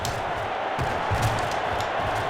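Steady stadium crowd roar from an American football video game fills the whole stretch, a dense continuous wash of cheering and murmur without a break.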